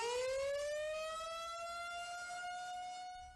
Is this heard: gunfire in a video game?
no